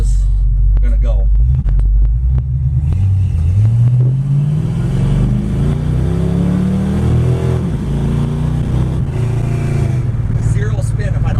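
A 1980 Dodge with a 318 V8 engine accelerates hard from a standing start, its loud rumbling exhaust climbing in pitch as it pulls away, close by.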